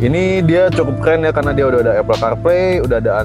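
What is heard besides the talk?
No distinct noise like a dog, phone or traffic.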